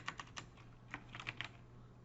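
Keys clatter on a computer keyboard in a short, uneven burst of clicks, quiet and fairly close, with a steady low hum underneath and no voices.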